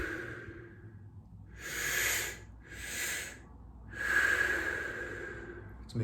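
Three loud, airy breaths from a guided breathwork exercise, each a long audible exhale, rise and fall slowly over a low background hum.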